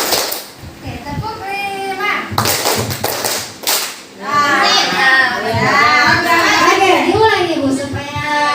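Children in a classroom clap a counted clap pattern in quick bursts, with voices chanting and talking around it.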